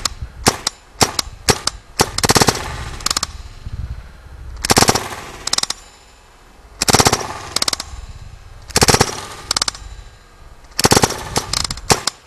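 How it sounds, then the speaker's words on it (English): RAP4 T68 M4 paintball gun fired in repeated bursts of rapid sharp pops, several volleys separated by short pauses, crisp and close with no talk. "I mean, I'm really surprised how quiet that gun is."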